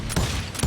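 Gunfire from a revolver or rifle in the Western shooter Call of Juarez: Gunslinger, two quick booming shots under a steady background rumble.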